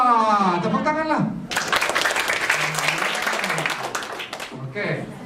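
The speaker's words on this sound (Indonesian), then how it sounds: "Wah, tepuk tangan lah." School students break into lively applause that carries on for several seconds, with a teacher's voice speaking just before it and again as it fades.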